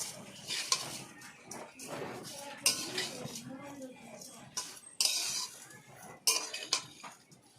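Metal spoon stirring sugar into semai (vermicelli) in a pan, scraping and clinking against the metal in irregular bursts with soft frying sizzle underneath, close and fairly quiet.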